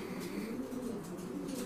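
A pigeon pair being matched for breeding near a straw nest gives a faint, soft, throaty cooing, quiet and steady over a brief moment.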